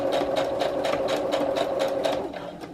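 A sewing machine back stitches a skirt hem, rapid even needle clatter running continuously and close, easing slightly at the end.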